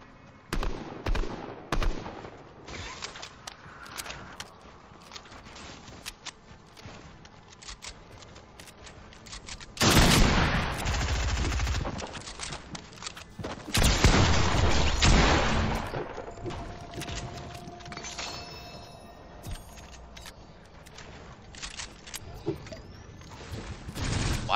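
Automatic gunfire in an arena shooter video game, with rapid bursts throughout and two especially loud, dense volleys partway through, no talking over it.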